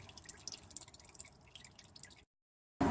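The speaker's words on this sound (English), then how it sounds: "just let it drain out. A bit more oil comes out." Transmission oil drips steadily from a Toyota Kluger's U151F automatic gearbox after the filter bolt is removed, a quiet, close patter of drops that runs for about two seconds, then silence, then a sudden loud burst at the end.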